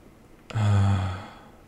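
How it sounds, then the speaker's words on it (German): A single heavy breath or sigh in the video game Dark Souls 3, starting abruptly and trailing off over about a second, close and fairly loud. "Ich höre doch irgendein Atmen auf meinem Ohr, oder?"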